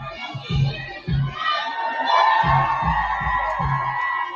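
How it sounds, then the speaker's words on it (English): A rally crowd screams, cheers and whoops in a continuous loud roar, with bursts of shouting rising and falling over the din. "Take a look at the crowd they were screaming at."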